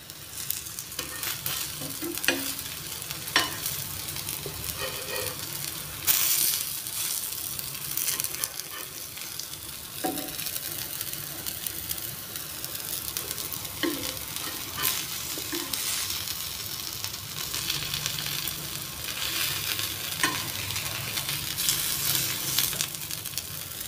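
Broccoli tikki patties shallow fry in a pan of oil, a continuous close sizzle with bursts of crackling and spitting, occasional louder pops and a couple of clatters as they are turned, no voices.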